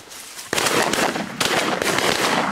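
Shotgun blasts ring out during a goose hunt in Estonia, two sharp, loud reports about a second apart, each trailing a long rough roar of echo outdoors.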